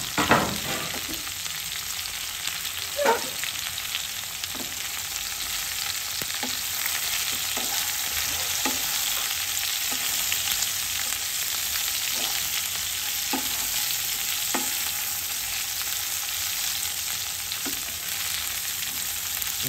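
Ridge gourd pieces fry in a pan on lowered heat with a steady, moderate sizzle, broken by a dozen soft, evenly spaced scraping strokes of stirring.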